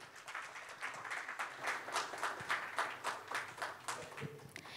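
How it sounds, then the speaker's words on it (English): Applause rises at a fintech conference as speakers are called to join the stage, heard as quiet, distant, fairly steady clapping from a modest crowd. "Let's have a huge round of applause"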